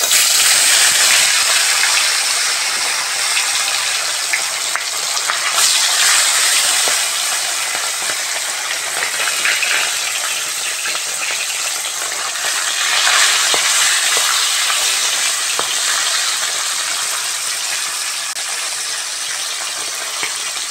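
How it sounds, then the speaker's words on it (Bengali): Small puti fish frying in hot mustard oil, a steady loud hiss and bubbling sizzle held close and continuous throughout, with no talking. "মাছগুলো বেশ লাল লাল করে ভেজে নেব"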